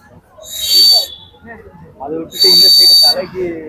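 Two bright, breathy toy whistle blasts imitating a koel's call, each nearly a second long, separated by a pause, with people talking softly around and between them at a temple.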